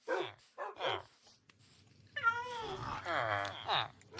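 A cat in a video game meows several times in short separate cries, then a longer drawn-out wavering meow follows, fairly close and clear.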